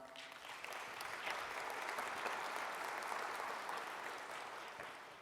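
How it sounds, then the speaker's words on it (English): Applause from an audience at a civic talk in Maryland, a full, sustained round of clapping from a sizable crowd that swells slightly and holds steady, fairly quiet overall and without speech. "Can we hear it for Adeline?"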